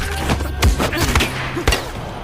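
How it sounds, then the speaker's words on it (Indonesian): Gunfire in an action film: several sharp, loud bangs ring out at irregular intervals over a dense, rumbling soundtrack, with no speech. "Mendengar suara tembakan, Sersan Yadong pun segera memeriksa keadaan"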